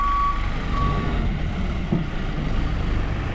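A truck on a road expedition in Yakutia rocks forward and back, its engine rumbling low and steady while a reversing beeper pips briefly at the start.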